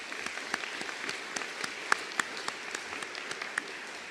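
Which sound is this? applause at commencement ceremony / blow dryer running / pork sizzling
applause at commencement ceremony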